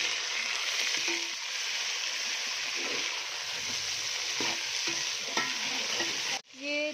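Chicken fries with lightly browned onions in a karahi, a steady crackling sizzle with intermittent scraping stirs, ending in a sharp clatter near the end; no talk.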